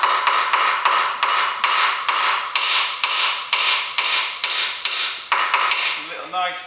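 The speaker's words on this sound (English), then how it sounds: "I'm going to screw out of it about halfway and just get the hammer again." A hammer gives steady, evenly spaced metallic taps, about a dozen, on a bolt while a gearbox seal is changed on a 2010 Ford Fiesta in a garage, each tap sharp and close with a short ring.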